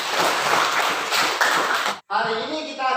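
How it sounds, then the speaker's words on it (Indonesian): Children in a classroom clap together in a dense, rhythmic burst that stops abruptly, followed by a short tonal sound afterward. "Tepuk tangan."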